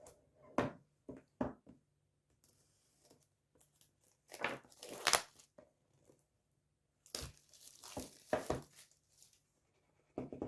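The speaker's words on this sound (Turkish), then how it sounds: "Şöyle öncelikle kutumuzu açalım." Cardboard packaging box of a Botech mini scart HD satellite receiver being opened, with close crinkling, scraping and rustling bursts separated by short pauses.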